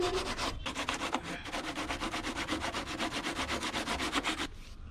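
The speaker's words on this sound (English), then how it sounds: "so I just finished sanding it" Sanding a plastic motorcycle tail tidy part for a KTM Duke, a steady run of rapid rhythmic rubbing strokes, close and fairly loud, nearly continuous for about four seconds before stopping.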